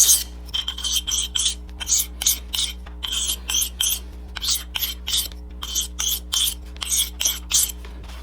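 A handmade mushroom knife is drawn over a sharpening stone in about a dozen steady, evenly spaced rasping strokes, each a short burst of close scraping over a low constant hum, with no talking.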